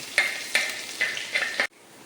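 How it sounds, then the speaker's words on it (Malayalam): Hot oil sizzles as fenugreek seeds splutter, with a few rhythmic stirring scrapes and small pops, then cuts off abruptly. "ചൂടായ എണ്ണയിലേക്ക് ഇത്തിരി ഉലുവ ഇട്ട് പൊട്ടിക്കുന്നു കേട്ടോ"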